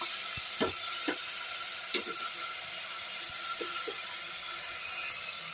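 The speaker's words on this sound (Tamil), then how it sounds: "இஞ்சி பூண்டு பேஸ்ட்டு தூக்கலாக போட்டுப்போம்" Ginger garlic paste sautéing in a pan for chana biryani, a soft continuous sizzle with a few scattered spatula scrapes and taps.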